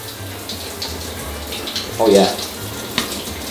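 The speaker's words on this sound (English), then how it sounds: "I'm washing my hands." Hot water runs from a tap in a cheap hostel bathroom during hand washing, a steady hiss with a louder burst of splashing, while a person speaks briefly over it.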